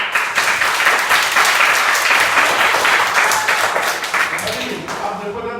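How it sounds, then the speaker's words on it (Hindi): An audience claps steadily for a performer at a library event, dense sustained applause throughout that tapers slightly toward the end. "तो भैया के लिए ताली बजाओ।"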